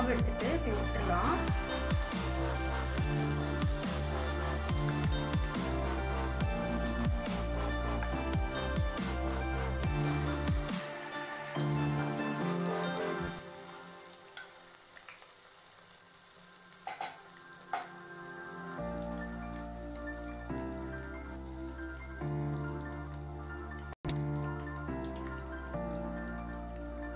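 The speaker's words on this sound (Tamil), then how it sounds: "இப்போ எண்ணெய் சூடாகிடுச்சு. ஒரு புளிக்கரண்டியில் மாவு எடுத்துட்டு இப்போ விட்டுடலாம்." Malpua batter frying in hot ghee and oil, a steady sizzle and bubbling crackle running beneath continuous music, growing quieter partway through before picking up again.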